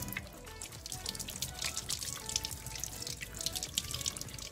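Water runs and drips from a tap while Lactacid baby wash is rinsed off, a faint continuous splashing with irregular droplets.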